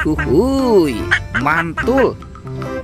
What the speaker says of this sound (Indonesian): Ini ada bebek angsa.